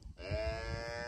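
After a brief quiet thump, a Nelore cow lets out one long, drawn-out moo, fairly close and steady, with no one speaking.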